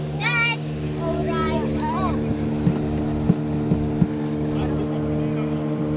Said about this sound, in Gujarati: સાથેની બોટ અમારી સાથે આવી રહી છે